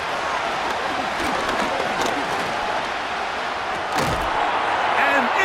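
Stadium crowd noise in Madden 25 before a 3rd-and-goal play, a loud, steady roar of cheering fans with one sharp thud near the end.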